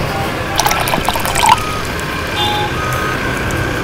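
Water splashes and trickles down outdoors on a street in a hidden-camera prank, a steady wet spatter with brief drips, fairly loud and continuous with no talk over it.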